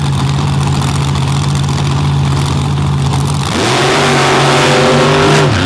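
Two monster trucks rev hard at the start of an afternoon race in Brooksville, a loud steady engine drone that climbs sharply in pitch as both accelerate away together.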